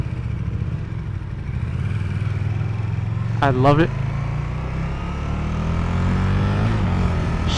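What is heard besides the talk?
2015 KTM 1290 Superduke R motorcycle engine accelerating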